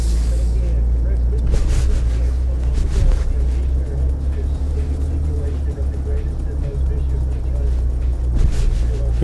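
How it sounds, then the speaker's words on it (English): A 2021 GMC Sierra 1500 AT4 pickup truck drives along, its steady low engine and road rumble filling the cabin continuously with occasional bumps and knocks, and a voice speaks over it. "So let's take the GMC Sierra 1500 out to a drive."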